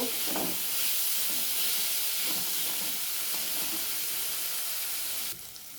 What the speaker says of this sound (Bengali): দিয়ে সমস্ত মশলাগুলো আমি খুব সুন্দর করে কষিয়ে নেব।